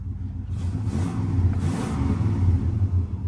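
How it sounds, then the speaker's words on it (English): A 1999 Toyota Land Cruiser engine with over 555,000 miles idles with a steady low rumble, then briefly revs up twice, rising and falling, close by with no talking. "Let's give it a little rev."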